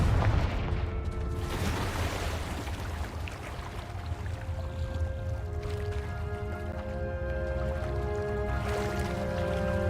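A Confringo explosive spell fires in Hogwarts Legacy, with a deep booming blast near the start and another burst around two seconds, followed by a rumbling tail under sustained game music.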